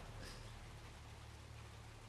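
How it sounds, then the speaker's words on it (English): Steady rain hisses over a low droning background in Watchmen: The End is Nigh at the docks, a constant even wash of falling water with no pauses. "I do like the rain effects in this game."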